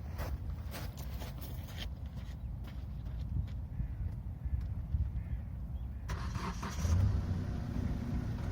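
A Kia Ceed Estate engine idles with a low, steady rumble, then a rougher surge as it catches and keeps running, heard fairly close.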